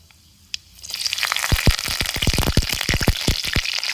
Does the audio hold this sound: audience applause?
no